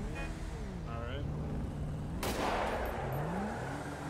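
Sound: handgun fired in the air in GTA 5 video game

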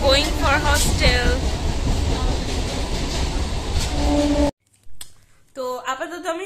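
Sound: train ride, onboard train noise

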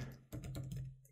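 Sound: typing on a computer keyboard

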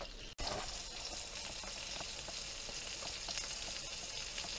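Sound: fish sizzling while frying

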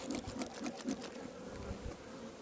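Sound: honeybees buzzing around an open hive

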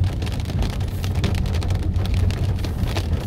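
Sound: rain falling in a mountain village

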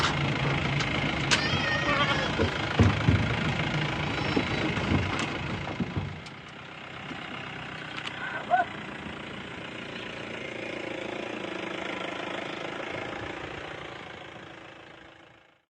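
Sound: vehicle engine running

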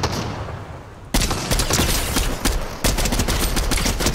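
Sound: distant gunshots in a video game

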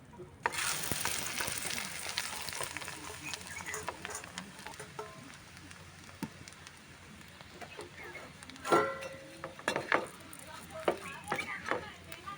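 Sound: flattened rice (poha) frying in ghee

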